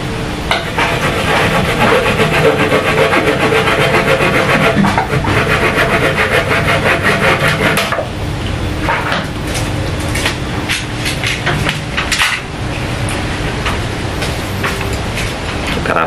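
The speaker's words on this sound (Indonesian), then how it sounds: "Kita gergaji dulu ya." A hand saw cuts through woody bonsai material with loud, continuous rasping back-and-forth strokes close up, the strokes growing choppier toward the end, with no voices.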